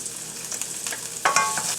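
Vegetables and garlic stir-fry in oil in a pan, a close, steady sizzle with a brief louder burst of crackling as the food is stirred.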